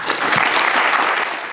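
A dense burst of audience applause, steady and loud, with many hands clapping at once and no voices.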